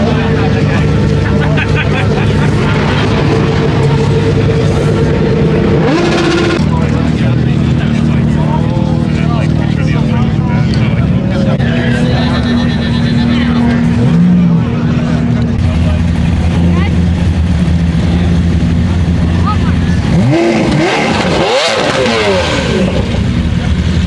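An LS-swapped Mazda Miata at a cars-and-coffee meet rumbles past, a deep V8 drone that builds and then revs hard near the end, loud and close among crowd noise.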